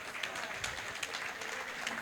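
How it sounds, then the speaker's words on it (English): Steady audience clapping at a judicial officers' association event, a dense continuous wash of many hands from a seated crowd, even in level and moderately distant, with no voices over it. "So can we all clap to Ujoa"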